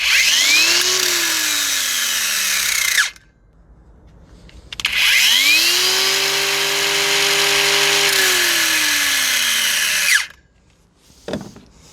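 Parkside PWSAP 20 Li C3 cordless angle grinder from Lidl starting up, whining loud and close for two runs of several seconds each, the pitch sweeping up at start and falling away as it spins down.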